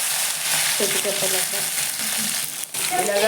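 Spices crackle in hot oil as tempering is added for a cucumber palya, a loud, continuous sizzle with bursts of frying, and voices talk quietly over it.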